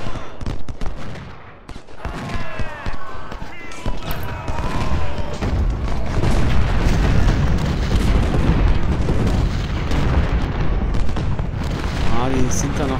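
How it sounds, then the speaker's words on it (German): Cannon and artillery fire in the Ultimate General: Civil War video game, a dense, loud, continuous barrage of booms and gunfire crackle that builds and keeps rolling throughout, with voices underneath. "Kanone, allesamt Feuer."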